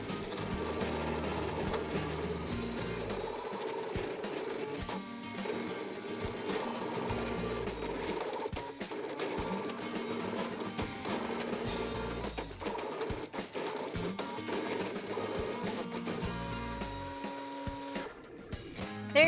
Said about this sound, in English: I'm gonna press start and the machine is gonna start drawing for me.